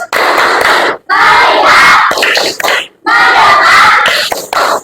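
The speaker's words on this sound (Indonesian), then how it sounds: "Tepuk fokus." Classroom of Indonesian schoolchildren doing a rhythmic group clap-and-chant cheer, loud and close, delivered in three energetic bursts separated by short pauses.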